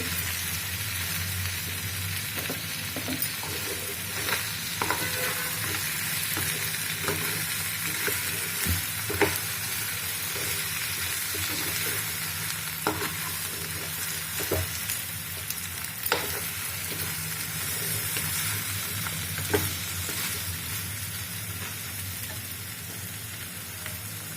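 Crab fry being stirred with salt in a pan: a continuous loud sizzle runs throughout, close up, broken by occasional spatula scrapes and taps against the pan.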